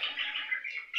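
Budgerigars in a home breeding cage give a bright, continuous warbling chirp, close and clear, with a sharper note at the very end.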